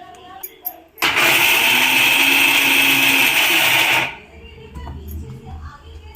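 A kitchen mixer grinder coarsely chopping cashews, pistachios and almonds for kulfi, running loud and steady for about three seconds before stopping, with a few soft bumps and voices around it.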